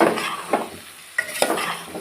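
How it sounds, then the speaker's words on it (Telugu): Aloo brinjal tomato curry with eggplant and potato being stirred in a pan over a medium flame: soft scraping and clinking strokes of a spoon against the pan at an uneven pace, over a faint sizzle, with no talking. "మీడియం ఫ్లేమ్లో పెట్టి కలుపుకోవాలండి"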